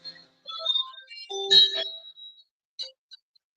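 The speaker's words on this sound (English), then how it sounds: "Sorry, my phone's going off." A mobile phone rings with a short, bright electronic melody of chiming tones, fairly loud and close, then trails off into a couple of brief beeps, alone with no talk.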